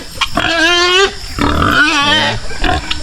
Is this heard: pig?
yes